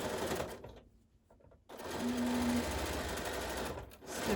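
Domestic sewing machine stitching a quilt block, running in loud continuous bursts with a short pause near the start, close by and alone.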